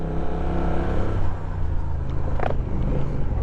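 A 2021 Honda Rebel 1100 motorcycle accelerating in sport mode, its engine a deep, close rumble that drones steadily throughout, with wind noise over it and no talking.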